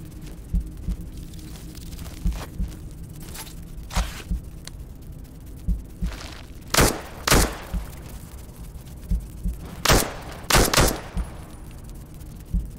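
Gunfire in the Into the Radius 2 VR shooter, scattered sharp shots over a low ambient hum, with louder clustered reports in the middle and later, some doubled in quick pairs; no talk.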